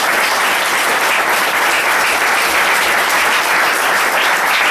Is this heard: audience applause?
yes